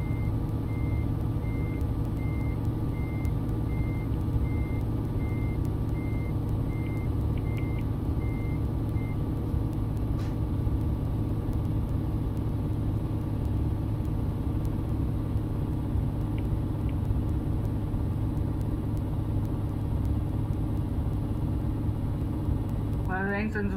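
A heavy truck in Euro Truck Simulator 2 rumbles steadily at low pitch while stuck against a wooden pallet crate, with a brief burst of reversing beeps near the end and voices talking over it.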